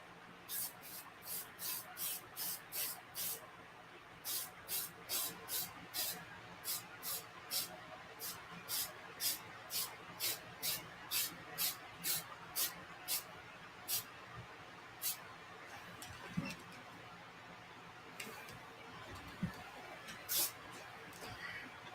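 An aerosol can of matte coat sprays onto a Warforged Titan miniature held over a trash can, giving a long run of short, regular hissing bursts, then a few sparser sprays near the end.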